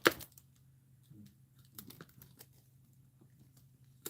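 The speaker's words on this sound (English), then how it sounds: "Taping to the inside of the handle." Tape is pulled and pressed onto the inside of a basket handle while an Easter basket becomes a Mother's Day basket: a sharp close crackle at the start, then faint intermittent crinkles and taps over a low steady hum.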